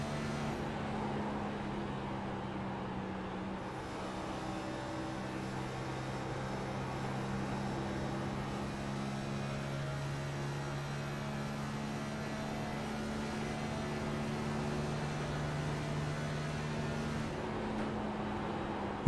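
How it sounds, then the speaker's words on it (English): Race cars in the iRacing sim on the front straightaway at Chicagoland, engines droning steadily at high revs against the rev limiter, a continuous buzzing engine tone lasting throughout with no pauses. "These drivers are hitting the limiter on the car on the front straightaway"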